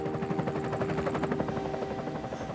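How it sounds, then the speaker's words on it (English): Helicopter flying over Mount Württemberg in mountain caribou country, a steady rapid rotor chop with a droning engine hum, fairly loud and close, slightly fading toward the end. "The helicopter flies over Mount Württemberg."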